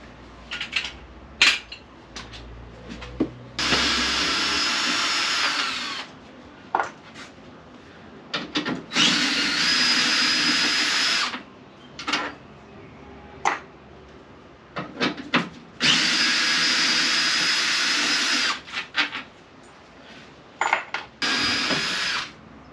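Power tool removing the bolts from a camper's rear valance: several loud buzzing runs of a few seconds each, close by, broken up by clanks and small metal clatter.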